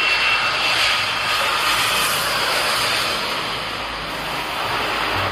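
Steady broadband roar of a toy Airbus A380 airliner's jet engine sound, loud and continuous for the whole stretch with no voices over it.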